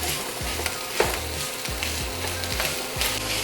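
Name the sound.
pound of sausage browning and sizzling in a pan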